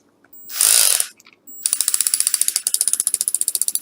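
A power drill on an e-bike fork runs with a short burst and then a rapid, loud mechanical clatter of the hammer action, its steady ratcheting pulses repeating close up.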